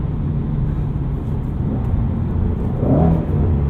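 A 2016 Ford Mustang Shelby GT350 drops into second gear at highway speed and roars hard under acceleration, a loud, steady engine drone that swells near the end.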